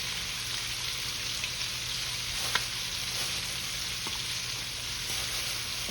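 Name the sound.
chicken feet frying in oil, stirred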